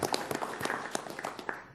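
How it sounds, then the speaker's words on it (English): An audience applauds a school principal at a school district special meeting, with a scatter of claps at moderate distance, fairly soft and uneven. "Let's give her a round of applause."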